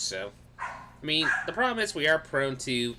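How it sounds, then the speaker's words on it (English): A small puppy yips and barks in the background, faint and intermittent beneath someone talking steadily up close. "Sorry about the little barking in the background."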